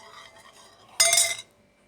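A metal spoon clinks and scrapes against a bowl in one short burst while gram flour is stirred into a mixture for challa charu, with a quiet, faint background before and after.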